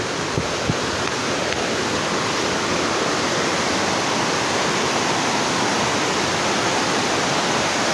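A strong waterfall in Da Lat roars in a steady, dense rush of falling water, loud and continuous with no voices over it.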